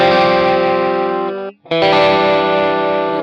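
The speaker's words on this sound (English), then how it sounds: "Now if I play the chord, you can hear that it's a little bit, break up" An electric guitar chord rings out through a MOOER GE200 multi-effects unit on a preset with slight break-up, sustaining loudly with chorus shimmer, briefly cut off and then struck again, alone without talk.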